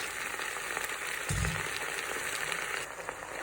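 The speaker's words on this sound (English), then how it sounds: "So now stir in the spinach, baby spinach, until it wilts." Baby spinach with red onion sautéing in hot oil in a pan, a steady close sizzle and crackle with a brief low thump partway through.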